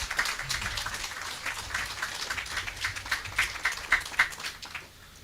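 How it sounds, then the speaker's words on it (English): An audience claps at the official opening of a police station in Lacovia, a steady patter of many hands at moderate distance that swells slightly before tapering off. "Give him a big round of applause."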